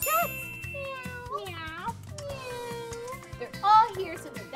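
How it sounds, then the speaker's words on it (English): Several cats meow in close succession, with rising and falling cries overlapping, while people's voices and a soft background hum carry on around them. "Oh, more cats."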